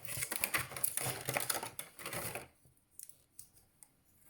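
Nail clipper snipping through plastic packaging, a rapid run of close, crisp clicks and cuts that stops abruptly, leaving a few faint scattered ticks.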